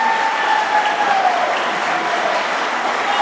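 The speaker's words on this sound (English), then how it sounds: "Let's give her another round of applause" A graduation-style stepping up ceremony audience applauds a student speaker with steady, full clapping that fills the room for the whole span at an even level, with no break or swell.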